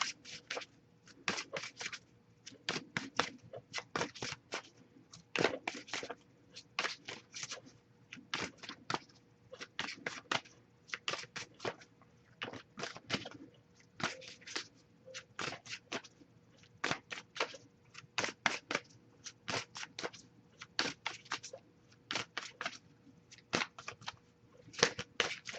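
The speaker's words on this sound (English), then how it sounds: "I'll shuffle a little bit more, see if we get anything." Repeated bursts of tarot cards being riffled and shuffled, crisp and close, coming in quick clusters with short pauses between.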